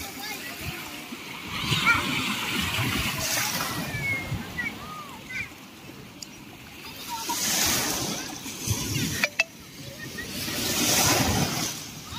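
Sea waves wash onto a beach at sunset in swelling, rushing surges that rise and fall every few seconds, fairly close and loud, with people talking over them.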